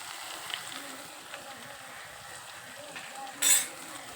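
Okra curry with salt and chili powder stirred in a pan: a soft continuous sizzle with faint scraping strokes and one brief louder clatter near the end, heard close and fairly quiet.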